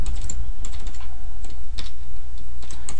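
Fingers tapping keys on a computer keyboard while entering a password, a quick run of light clicks with brief pauses, close and clear over a steady low background hum.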